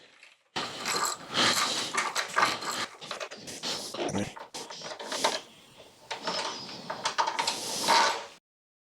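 A ratchet clicks loudly and rapidly up close, removing a large gas tank screw on a BMW R1300 GSA motorcycle, in several sustained runs broken by brief pauses.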